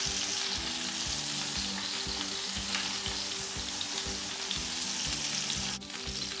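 Seekh kebabs frying in a pan with oil, a steady close sizzle with rhythmic stirring and scraping as they are turned, ending with a brief clatter.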